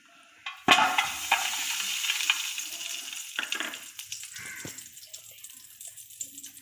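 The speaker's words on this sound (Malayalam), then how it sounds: "ഇനി നമ്മൾ ഇതിലേക്ക് ഡാൽഡ ചേർക്കുകയാണ്." Dalda vanaspati hitting a hot pan for Hyderabadi biryani gives a sudden loud sizzle that settles into crackling and bubbling, fading gradually with a few scraping stirs.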